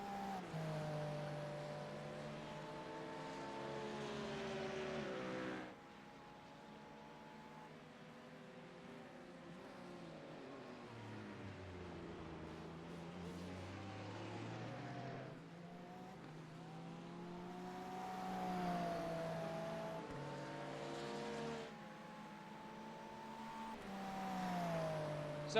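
GT3 race cars leaving pit lane at Sebring in a racing video game, engines droning with rising and falling pitch as they accelerate and shift, several cars overlapping, steady and fairly quiet throughout.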